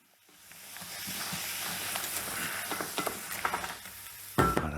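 Crustaceans sear in a very hot pan with thyme and bay leaf, a rising loud sizzle and hiss with stirring scrapes and clatters, ending in a sharp knock.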